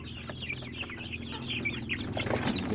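Chicks sorted by size in a brooding box ahead of sale, a dense chorus of high peeping and cheeping that runs steadily throughout and grows slightly louder toward the end.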